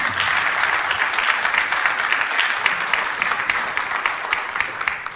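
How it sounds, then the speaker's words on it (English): Church congregation giving a round of applause to volunteers during a sermon, many hands clapping in a dense, steady crackle that stays even and moderately loud throughout, with no voices over it. "Give them all a hand clap for helping me out."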